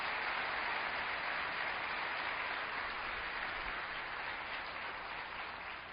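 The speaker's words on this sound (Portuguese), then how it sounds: "Pode aplaudir a Cristo." Dense, steady applause from a large crowd in a church fills the whole stretch, loud and continuous, tapering slightly toward the end.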